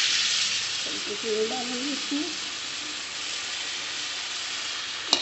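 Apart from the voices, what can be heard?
tomato, garlic and spices frying in a pan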